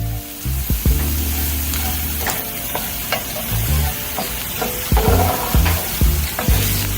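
Tomato sauce poured onto browned vermicelli sizzling in a pan for Mexican fideo, a loud sputtering fry with repeated spoon scrapes and clunks against the pan.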